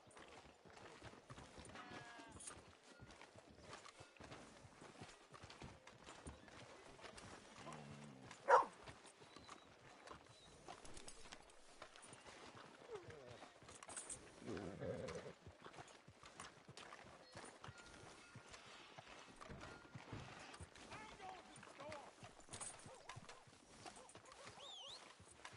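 A horse walks with steady clip-clopping hooves in Red Dead Redemption 2, quiet and continuous under an ambient background, with a brief louder knock partway through.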